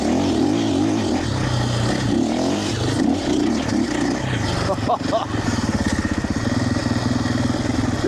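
A 2025 KTM Champion Edition motorcycle accelerates hard as its front wheel lifts, giving a loud, close engine drone that climbs in pitch near the end, with wind rush and a voice over it.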